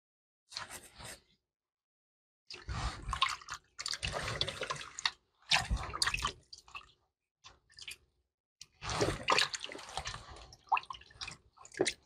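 Oxtail rinsed under a running kitchen tap, bursts of splashing water and squishy handling broken by short silent gaps, close and fairly loud.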